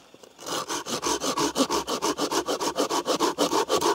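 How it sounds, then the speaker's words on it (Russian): A folding Fiskars hand saw cuts through frozen dead wood in steady, rhythmic back-and-forth strokes, close and loud, with a rasping scrape on each pass and no talking. "Попробуем попилить мерзлую древесину"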